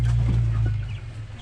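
Chickens cluck in short bursts over a steady low hum, nearby and moderately loud.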